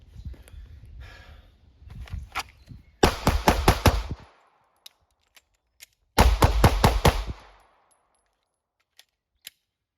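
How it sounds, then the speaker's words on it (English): A handgun fires two quick strings of about five rapid, sharp, close shots, split by a pause of several seconds for a magazine change with faint clicks and handling noises, then scattered light clicks after. "I'm just gonna bang out real fast shots and do a mag change"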